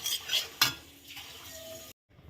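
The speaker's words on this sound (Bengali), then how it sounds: "ভেজে নেব আর কি সুজিটাকে ভালো করে" Semolina stirred and toasted in a hot pan, with a few scraping strokes of a utensil over a soft, steady sizzle, close and quiet, then a sudden cut to near silence.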